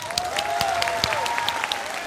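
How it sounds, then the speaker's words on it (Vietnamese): Audience applause for contestants on a Vietnamese televised singing competition, a dense, steady clatter of many hands filling the hall, loud throughout the short burst. "phải dành cho các em một tràng pháo tay thật lớn"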